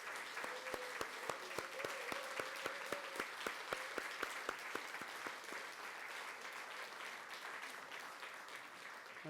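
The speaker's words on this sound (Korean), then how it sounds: "그런 격려의 마음을 박수로 한번 표현을 했으면 좋겠습니다" A church congregation applauds during a Sunday service, steady dense clapping from many hands filling a large room, with a few louder individual claps standing out early and a faint held tone fading beneath the first half.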